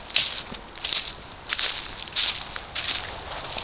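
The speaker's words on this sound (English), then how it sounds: "You can tell that's footsteps," Footsteps outside near a tent come as a run of soft crunching pulses, four or five bursts spaced roughly evenly, against a steady hiss of outdoor background.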